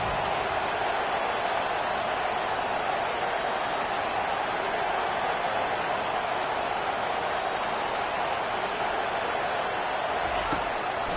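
Stadium crowd at a college football game cheering on the defense before a big third down: a dense, steady roar of many voices that holds loud and unbroken throughout.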